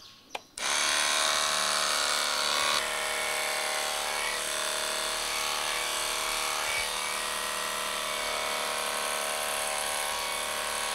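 An electric horse clipper switches on with a click and runs as a steady, close, high-pitched buzzing hum whose tone shifts slightly partway through.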